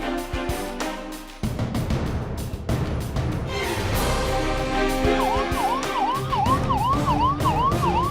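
Wailing sirens of a fleet of mobile veterinary animal ambulances set off together, the rising and falling tones stacking loudly and continuously over crowd and traffic noise.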